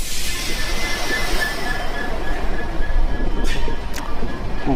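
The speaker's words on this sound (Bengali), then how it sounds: "ইন টাইম একটা ট্রেনের সঙ্গে ক্রসিং হচ্ছে, দেখি এটা কি ট্রেন" The Alipurduar–Bamanhat express rumbles past at a crossing with a loud, continuous rolling of wheels on rail, a faint squeal and brief sharper knocks near the end, heard close from a moving train.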